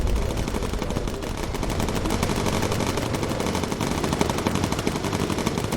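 Bomber gunners hammering away with machine guns in Bomber Crew, a relentless, rapid rattle of overlapping bursts at close range, loud and continuous with no pauses or voices.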